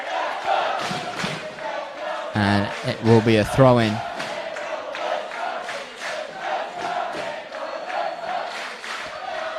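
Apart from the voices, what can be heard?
football crowd cheering for Azzurri at grand final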